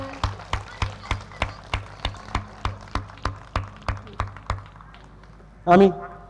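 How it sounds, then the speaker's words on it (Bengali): Hands clap for Aparajita after her part in the drama Maaya. The claps are steady, evenly spaced and fairly close, fade toward the end, and are followed by a brief tonal burst. "একটু জোরে হাততালি হোক অপরাজিতার জন্য।"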